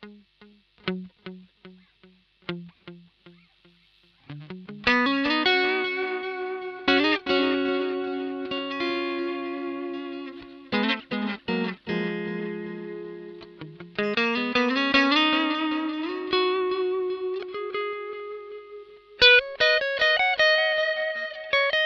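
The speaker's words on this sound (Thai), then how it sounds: "โหมดต่อมานะครับเป็นวอร์มวอร์มเนี่ยก็จะเป็นดิจิตอลดีเลย์ที่มันนุ่มมันอุ่นกว่าเดิมไม่ขมเท่าดิจิตอลนะครับ" An electric guitar through a Boss DD-8 digital delay pedal in warm mode: plucked single notes and then sustained chords and bends, each trailed by soft, rounded echoes that blur into a smooth wash.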